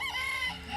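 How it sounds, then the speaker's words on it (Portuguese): A rooster crows once, a short clear cock-a-doodle-doo with a bright, strained tone, heard alone and close with no talk over it. "E pela segunda vez o galo cantou."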